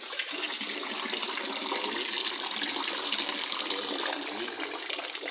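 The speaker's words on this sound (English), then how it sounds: "We just pour it back to the pan." Cyanide gold-processing liquid poured back into a pan, a continuous splashing gush of flowing liquid lasting several seconds, moderately loud and steady, with faint background voices.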